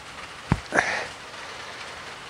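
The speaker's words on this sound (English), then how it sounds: "I thought I'd do it anyway because of the rain. It's not going away by the looks of it." Steady rain falls outdoors as a soft, even hiss, broken by a couple of sharp, close strikes partway through.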